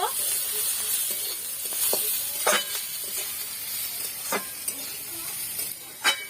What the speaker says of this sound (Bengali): কাঁচা লঙ্কা কুচি, সবকিছু একসঙ্গে করে ভালো করে ভেজে নেব